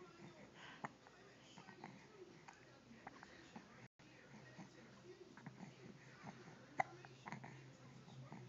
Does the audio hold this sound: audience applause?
no